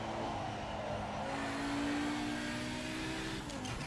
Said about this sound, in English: That intoxicating sound of the wastegate